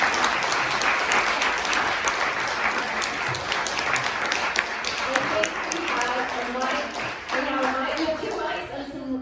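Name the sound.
audience round of applause for panelists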